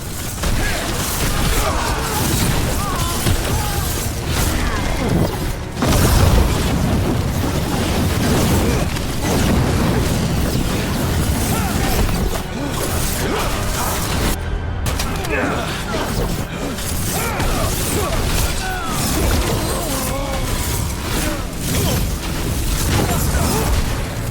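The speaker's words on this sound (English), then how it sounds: "They've got mortars!" Mortar fire in Dragon Age: The Veilguard brings repeated booming explosions and crackling bursts through a loud, dense battle scene, with voices talking over the chaos.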